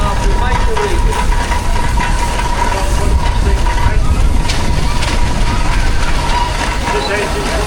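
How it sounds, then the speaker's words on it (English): Rebuilt steam engine running in a steam parade at Tinkers Park, giving a loud, continuous mechanical rumble and clatter close by for the whole stretch, with no speech. "He was Jay Harding from the Newton engine firm, and back in action after a major rebuild."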